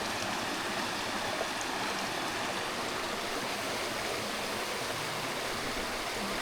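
Water rushes steadily along a stream near Thudugala Ella waterfall in Sri Lanka, a constant broadband hiss and splash with no voices.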